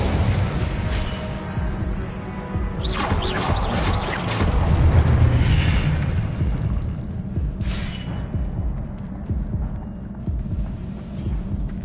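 A Confringo explosion spell goes off in Hogwarts Legacy, a loud booming blast swelling over a dense, rumbling game soundscape with bright crackling bursts partway through and a second sharp burst near the end.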